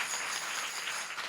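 An audience at a comedy kirtan claps loudly, a dense, continuous burst of applause that fills the short moment without a break.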